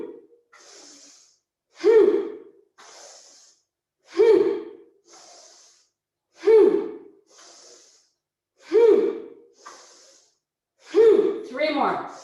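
Rapid Kundalini yoga breathing: forceful sniffs and blown exhales repeating in an even rhythm, close and loud, with soft quieter breaths between the strong pulses.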